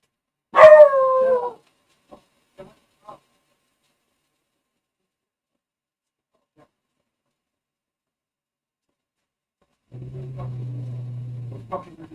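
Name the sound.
dogs barking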